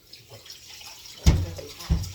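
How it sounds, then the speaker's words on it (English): Water running from a kitchen tap during hand washing, faint at first, then two louder splashing bursts near the end. "I gotta wash hands right now"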